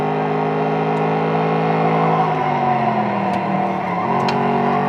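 A car engine in the San Francisco Rush arcade racing game on The Rock track revs loud and steady, its pitch rising and falling through gear changes, with faint beeps above.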